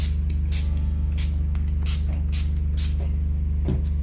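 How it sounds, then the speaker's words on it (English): Water spritzed from a spray bottle onto an acrylic ink painting, a series of short, sharp hissing bursts in a loose rhythm over a loud, steady low hum. "Okay, then I'm just going to quickly spray them a little bit."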